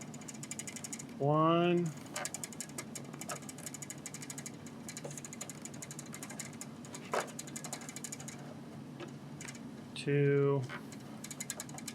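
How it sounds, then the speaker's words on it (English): A screw is driven back into a P-26 Peashooter model aircraft part, giving two short bursts of rising ratchet clicks with quiet handling between them, while a voice counts aloud. "I'll just fold this the other way, and then I'll screw this back in."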